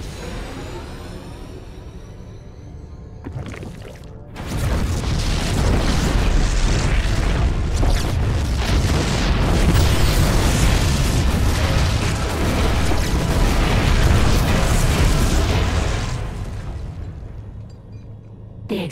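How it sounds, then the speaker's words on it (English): Explosions roar in the StarCraft 2 Heart of the Swarm game, a sudden deep boom bursting in after a quieter opening and rolling on as a dense, loud rumble of blasts and debris before fading. "The explosions have stopped."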